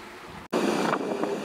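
Strong gale-force wind roars steadily across a sailing boat at sea, with surging water and broadband rushing noise close to the microphone after a brief dropout, no voices present.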